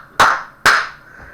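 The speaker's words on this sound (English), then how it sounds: "Let's get a round of applause" Two short, sharp bursts of hand clapping, evenly spaced and close, each fading quickly, with no talking over them.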